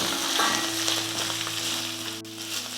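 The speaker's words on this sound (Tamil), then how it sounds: "இது எல்லாம் சேர்த்து நல்லா வறுத்துக்கலாம்" Lentils and grated coconut dry-roasting together in a pan crackle and hiss steadily up close, with a faint scrape of stirring and no talk.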